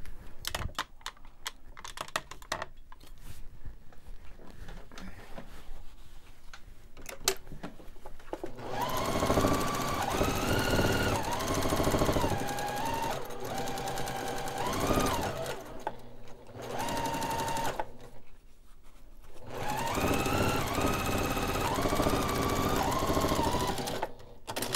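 Sewing machine stitching the seam of an envelope-style pillow sham made to match a vintage quilt, running in long steady bursts of rapid needle clatter with short pauses between seams, close and loud.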